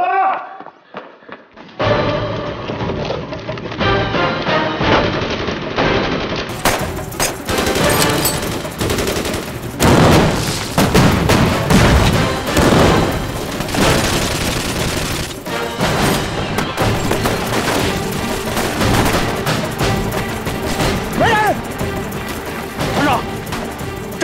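A loud war-drama battle scene with dense, continuous bursts of machine-gun fire and heavy artillery blasts, and shouting voices mixed into the din.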